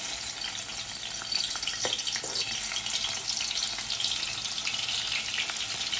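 Garlic sizzling and crackling steadily in hot oil for a Jamaican salt mackerel rundown, a dense close frying hiss with a few brief stirring clicks.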